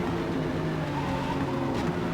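A race car in Forza Motorsport running mid-pack in a multiplayer race, its engine droning steadily and close up with a faint hint of tire scrub.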